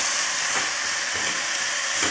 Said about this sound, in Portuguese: agora eu vou colocar a cebola. Refogando aqui.